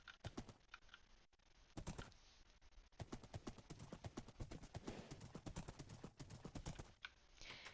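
Rapid, evenly spaced hoofbeats of a horse in Minecraft clip-clop steadily, with a few brief pauses between runs, sounding close and crisp like a gallop.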